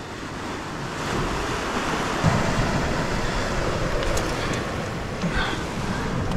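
Ocean waves surge and wash over rocks on an island shore, a steady loud roar of surf with wind buffeting the microphone throughout, swelling slightly in the middle.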